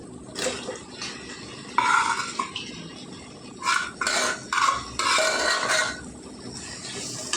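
A metal spoon scrapes and knocks against a pot while boiled chicken is stirred into capsicum gravy, in intermittent bursts of clinking and scraping separated by short pauses, fairly quiet with no talking.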